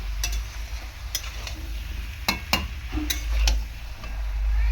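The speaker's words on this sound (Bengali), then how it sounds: "আমি ভালো করে কষিয়ে নেব 3 থেকে 4 মিনিট" Bottle gourd and shrimp with green chili sautéing in a pan, a steady low sizzle with scattered sharp clicks and scrapes of a spatula stirring, close and continuous throughout.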